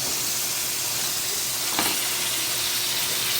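Chicken frying in a pan, a dense continuous sizzle and hiss, close up and steady, with a brief stirring clatter partway through and no talk.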